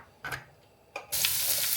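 Mustard and fennel seeds crackle in hot oil for radish fry: two short sharp pops, then a loud, dense, continuous sizzle that fills the rest close up.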